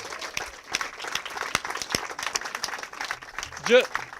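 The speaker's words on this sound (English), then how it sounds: "Let's give them a round of applause." Scattered clapping from a small group at a building dedication in Seguin, Texas, light and uneven, with a voice briefly rising near the end.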